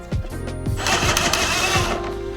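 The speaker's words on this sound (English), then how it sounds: "But first I'm going to get this nut off of here." A nut comes off a car's coilover suspension with a loud, close, buzzing mechanical whirr laced with rapid rattling impacts, lasting a couple of seconds and then easing off.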